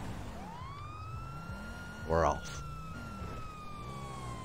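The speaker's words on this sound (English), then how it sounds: "Siren's on." Police car siren in the GTA 5 video game, a steady rising wail running throughout under a brief spoken line and game engine noise.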